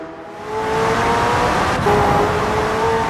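A McLaren Senna engine in Forza Horizon 4 roars loudly and steadily, holding a sustained rev with a strong tonal whine, a brief dip and shift near the middle, then continuing at high volume.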